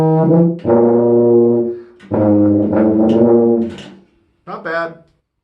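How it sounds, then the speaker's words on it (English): A 3/4-size tuba played through a Kelly plastic mouthpiece sounds three close, loud, sustained low honking notes with rich harmonics, separated by short gaps. "Honking away here on this tuba is not too bad when you consider I'm on a 3/4 tuba and a Kelly plastic tuba mouthpiece"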